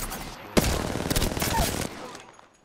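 Gunfire in the Apex Legends video game, a sudden close burst of rapid shots lasting over a second, then fading quickly into quiet.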